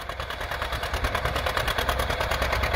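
Antique 820 tractor engine pulling a four-bottom plow, a steady loud chugging rumble with rapid rhythmic pulses throughout, close by with no talk.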